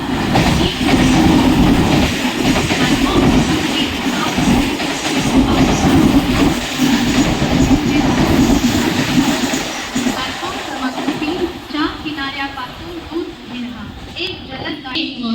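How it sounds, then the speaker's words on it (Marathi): A fast Mumbai local train roars past a station platform at close range, a loud sustained rumble with rattling wheels, while a public announcement voice talks over it and the noise eases toward the end. "एक जलद गाडी जाणार आहे।"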